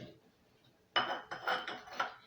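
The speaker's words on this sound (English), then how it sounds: "Then we'll add our cucumber into the blender." Cucumber pieces dropping into a blender jar during green smoothie prep: a sudden hard clatter followed by several quick clunks and knocks, close and fairly quiet, with no talking.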